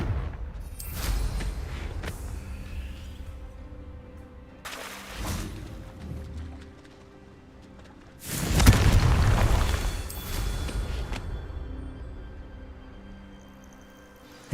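Confringo spell explosions in the video game Hogwarts Legacy, several heavy booming blasts spaced apart, the loudest a long rumbling burst, over a low ambient game background with no talk.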